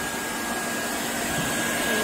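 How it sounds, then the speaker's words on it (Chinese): Two hair dryers blow a freshly washed Samoyed dry indoors, a continuous close, loud, even whooshing hum with a steady high whine and no pauses. "两个人给他吹风，两个吹风机招呼着"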